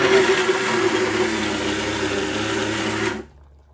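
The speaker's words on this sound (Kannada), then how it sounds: "ಅದು ಹುರ್ಕೊಂಡು ಮಿಕ್ಸಿಗೆ ಹಾಕ್ಕೊಂಡು ಈ ಥರ ಹಾಕೋಬೇಕು" A kitchen mixer grinder whirs loudly, grinding roasted peanuts into powder, its steady high-speed motor whine holding for about three seconds before cutting off abruptly into silence.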